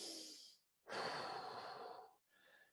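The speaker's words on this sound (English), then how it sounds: "suppress that heavy breathing and bring it under control." Heavy breathing during a workout comes close and loud, a short exhale, then a long forceful breath out and a shorter one, separated by brief pauses.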